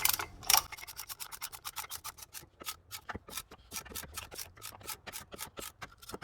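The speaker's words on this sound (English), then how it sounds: "we're gonna go ahead and clamp this down" A rapid series of quiet ratcheting clicks and rubbing strokes as a tool clamps down a front brake caliper piston on a 2015 Toyota Sienna, steady and close with no speech.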